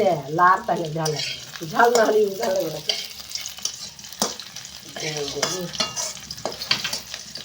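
Garlic and chili frying in a pan, a steady crackling sizzle with occasional stirring clatter, running under intermittent conversation between people nearby.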